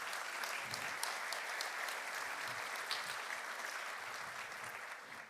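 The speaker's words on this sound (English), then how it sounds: "Shall we give a big round of applause to all of us?" Sustained applause from an audience at the closing session of the REAIM Summit 2024, a dense and steady clatter of many hands that holds even throughout and eases slightly toward the end.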